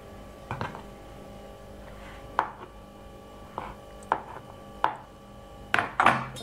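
Chicken cut with a knife on a board: about eight sharp chopping knocks spaced irregularly, the last two coming close together, loud and close over quiet background hum.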